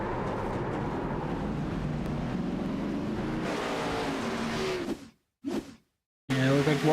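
Race cars circling a bumpy oval track in an OP Racing Premier Series event, a steady dense engine roar with wind noise, cutting out briefly twice before returning loud.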